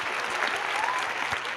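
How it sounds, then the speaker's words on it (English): Audience applause at a live event, a steady wash of clapping from a crowd heard briefly at moderate volume, with no talk over it. "Give them some applause."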